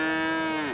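A Sahiwal bull at a cattle market gives one close, loud, sustained moo with a steady drawn-out tone that tails off at the end.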